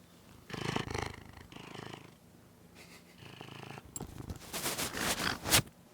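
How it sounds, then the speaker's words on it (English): A cat purring close by in a steady rumbling rhythm, growing louder toward the end with some rustling, no talking. "Who's got the purrs?"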